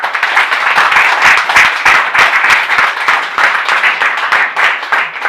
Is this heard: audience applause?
yes